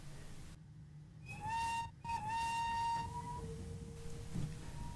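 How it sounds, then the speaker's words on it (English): Two steam locomotives sound their whistles in two long blasts over a low, steady rumble and hiss as the train sets off along the main line, followed by a lower, softer whistle tone. "With a whistle from both engines, the train set off along the main line"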